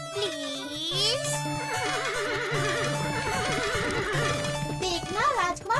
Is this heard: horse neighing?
yes